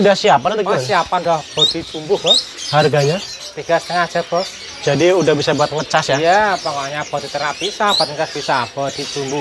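Chirps and cooing calls from caged birds, including a female green leafbird, at a bird shop kiosk, mixed in with nearby people talking continuously over them.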